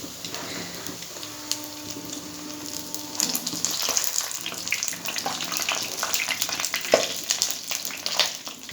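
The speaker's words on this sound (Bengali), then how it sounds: "একসাথে বেশি দেবো না, 4টে 4টে করে ভেজে নেব।" Pointed gourd (potol) pieces fry in hot oil four at a time in a pan, giving a steady moderate sizzle with crackling bursts and occasional clinks, no voices.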